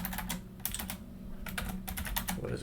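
Quick bursts of clicking keystrokes on a computer keyboard, close and crisp over a low steady hum, typed in short uneven runs.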